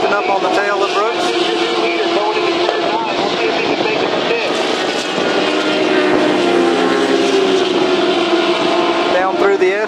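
Suzuki 1000 and Ducati 1098 race motorcycles scream past on a circuit, a loud, continuous high-revving engine roar that rises and shifts pitch, with a commentator talking over it throughout.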